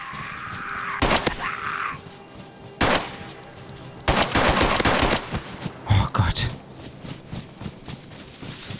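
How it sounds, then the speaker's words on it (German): Video game gunfire in an abandoned city overrun by aggressive carnivorous creatures: several loud, close bursts of rapid shots with short gaps between them, the longest volley in the middle. "Die Schüsse locken halt andere an."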